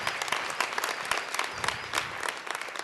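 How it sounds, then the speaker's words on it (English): Audience applause for the competitors at the HackOsaka 2015 event in Osaka, a steady dense clapping that fills the whole short stretch at even loudness, with no voice over it. "a round of applause for all of our competitors"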